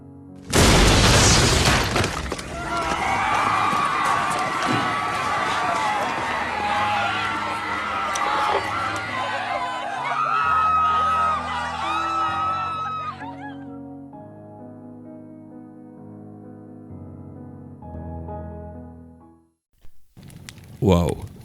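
Screams in a horror story soundscape ring out over a loud booming, crashing din with shattering and crowd-like noise, then the chaos gives way to low, sustained dark tones before a brief final burst.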